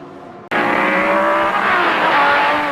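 Corvette DP prototype race cars scream toward the finish line in an IMSA race, a loud sustained high-revving engine roar bursting in suddenly and holding close and steady.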